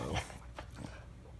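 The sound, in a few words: dog whimpering while begging for breakfast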